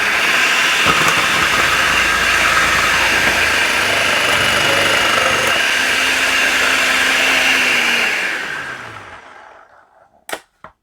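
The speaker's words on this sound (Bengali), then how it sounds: "আমি দুইটা আলু একসাথে দিয়ে দেই একটু চালাই দিই" An electric vegetable chopper whirs loudly and steadily while chopping two potatoes together, its motor running continuously for about eight seconds before winding down, followed by a couple of sharp clicks.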